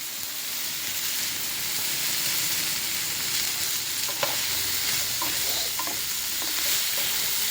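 Vegetables for a fenugreek-leaf stir-fry sizzle in a hot pan with a continuous close hiss, while a spoon stirs with scattered scrapes and clinks.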